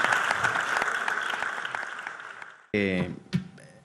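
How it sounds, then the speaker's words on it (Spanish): Steady applause from a crowd fills the first few seconds, then stops and a voice begins speaking. "yo quiero un aplauso para Antonio"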